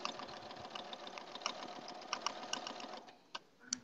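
A sewing machine stitches a log cabin quilt in a fast, steady mechanical patter that runs for about three seconds, then breaks off into a few separate clicks.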